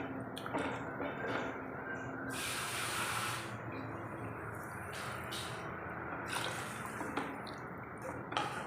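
Water is poured from a chili-powder bowl into a pan of Kerala fish curry, giving a hissing, splashing pour with bursts of sizzle and a few drips, moderately close, with no speech.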